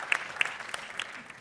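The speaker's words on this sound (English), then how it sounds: "Give her please an applause." An audience claps for a panel speaker at an open-data governance conference, a fairly soft, continuous patter with a few sharper individual claps standing out.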